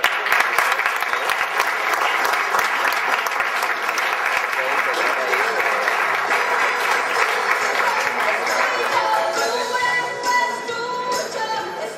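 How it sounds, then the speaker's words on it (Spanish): A conference audience in Durango breaks into sustained, dense applause that holds steady for several seconds before gradually thinning toward the end. "pido un fuerte aplauso"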